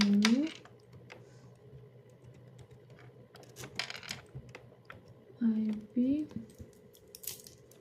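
Keystrokes on a computer keyboard come in scattered bursts as the ipconfig command is typed, with some clicks sounding close by and a few short tonal chirps mixed in.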